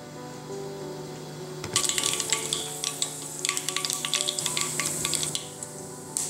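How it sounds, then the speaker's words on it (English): Mustard seeds sizzle in hot sesame oil in a pan over medium heat, with a quiet start and then a burst of steady frying and crisp, scattered pops carrying on up close without any talk. "I'll add some mustard seeds and wait for the mustard seeds to pop"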